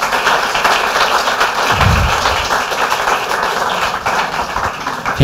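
Audience applause at a German presentation event for funded free-knowledge fellowship projects, dense steady clapping with a single low thump, no talk over it.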